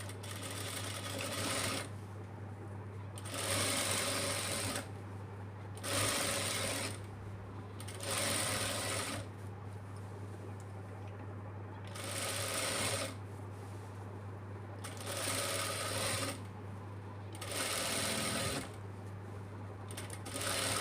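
A sewing machine stitches a kids' lehenga, running in repeated short bursts of rapid mechanical chatter with brief pauses between, over a steady low hum, fairly quiet and close.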